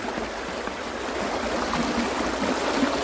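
A shallow urban stream flows over rocks near a stepping-stone crossing on a morning, producing a continuous close babbling rush with light gurgles and no talk.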